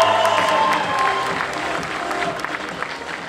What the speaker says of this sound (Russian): Благодарим ребят за этот сложнейший номер бурными аплодисментами.